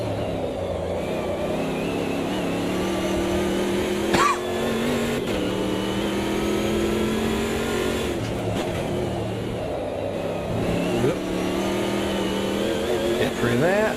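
A race car engine in the Automobilista 2 sim, running on worn hard tyres with a near-full fuel tank, holds a steady, loud drone with small pitch shifts as it changes gear, continuous throughout under occasional talk.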